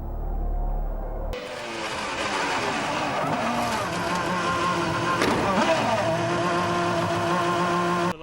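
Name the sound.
Formula 1 car crashing, F1 2003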